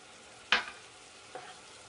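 Two spoons of milk poured into sugar syrup boiling in a pan, giving one sharp hiss and sizzle that fades quickly, then a fainter second sizzle about a second later over a low simmering background.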